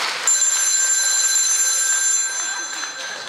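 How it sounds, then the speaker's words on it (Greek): A telephone rings with a steady, bright electronic trill that continues throughout, loud and close, during an amateur stage play in Chalkida. "Το τηλέφωνο."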